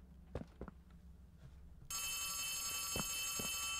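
An in-game telephone in Poppy Playtime Chapter 3 starts ringing partway through, a loud steady electronic ring that comes in suddenly over a low ambient rumble, with a few soft thumps before and during.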